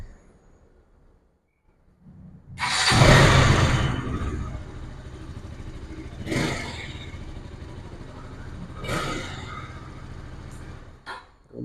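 A 2024 KTM Duke 200 motorcycle starts with a sharp, loud burst, then idles roughly and is blipped twice, sending the engine note up in brief revving swells.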